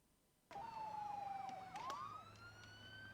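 A police siren in the video game BeamNG.drive wails up and down in repeated sweeps after a brief quiet start, loud and steady, then shifts to a higher rising tone.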